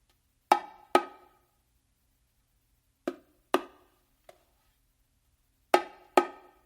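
Seven slow, separated bongo strokes of the martillo pattern, played alone at a deliberately slowed pace, each hit sharp and close with a quick decay and uneven gaps between pairs and single taps.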